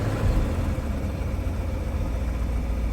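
An old truck engine idling just after starting, a steady low mechanical rumble with a constant hum, loud and close with no voices.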